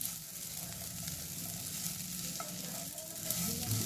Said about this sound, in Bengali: চলো 1-2 মিনিট ভেজে এটাকে আবার নামিয়ে নিই।